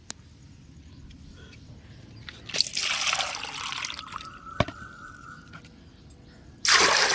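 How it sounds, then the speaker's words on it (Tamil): Mugs of water are poured into a small-onion liquid fertilizer solution, making a loud splashing gush that tapers to a trickle, then a second sudden pour near the end, over a quiet background. "அதோட கூட மூணு மக்கு தண்ணி சேர்க்கலாம்"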